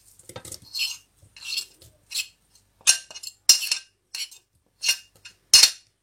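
Egg being mixed with sardine in a bowl for samosa-style triangles, heard as a series of sharp utensil clinks and scrapes against the bowl in irregular bursts, close and clear with no talk.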